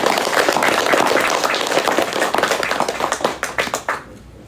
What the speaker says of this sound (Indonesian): Boleh tepuk tangan lagi buat Bapak.